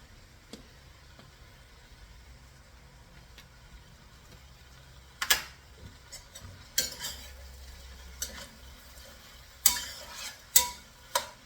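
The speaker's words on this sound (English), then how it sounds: "And we're just going to add the peppers." Peppers go into a hot pan for a Hungarian dish and get tossed, bringing a quiet steady sizzle broken by several sharp clatters and scrapes of utensil against pan, with no talking.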